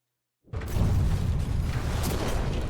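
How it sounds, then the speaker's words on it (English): A deep explosion in the SINxHOLIC game bursts in abruptly after half a second of silence, then a loud, dense rumble sustains to the end, alone without talk. "I heard a huge explosion."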